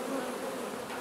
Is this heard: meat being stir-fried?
no